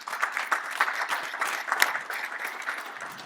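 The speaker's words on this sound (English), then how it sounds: "Everybody give a hand clap on that." A seated audience gives steady, dense applause at a talk on the business of building cars and Jeeps, many hands clapping together at an even, moderately loud level throughout.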